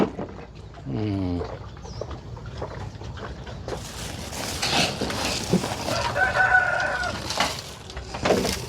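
A rooster crows among chickens on a rural smallholding in Laos, first one fairly close crow, then clucking and more barnyard fowl calls over steady outdoor background noise.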